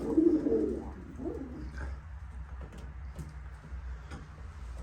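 Pigeons, including an Arab breed, coo in low, throaty bursts close by, strongest at the start, with soft ticking and faint background noise afterward.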